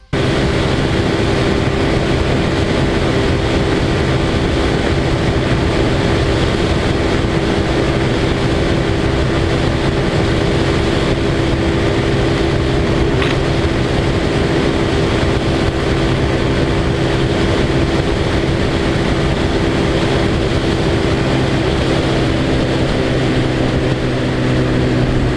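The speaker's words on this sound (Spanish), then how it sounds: "vamos a sacarle un top speed a ver cuánto está levantando esta motocicleta" A Vento Rocketman 250cc motorcycle engine drones steadily at high revs with strong wind rush, loud and close throughout, holding near top speed.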